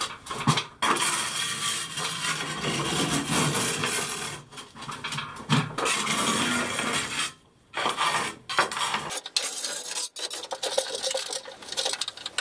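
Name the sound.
scraping grout out of tile corners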